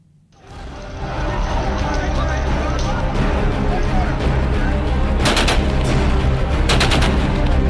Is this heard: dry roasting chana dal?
no